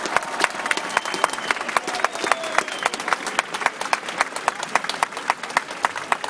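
Steady applause from an outdoor audience of French Armenians gathered in front of the Senate after a speech, dense clapping with sharp individual claps standing out, continuing evenly without talk.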